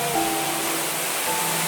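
A waterfall near a campsite, heard as a steady broadband rush of falling water, loud and unbroken for a couple of seconds with faint tonal sounds over it.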